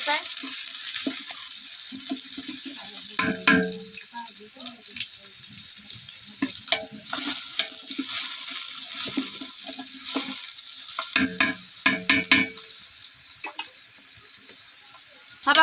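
Onion fries in a pan for mutton curry, turning red, with a continuous sizzling hiss broken by scraping and clattering stirring strokes. Bursts of spatula noise come and go over the steady fry.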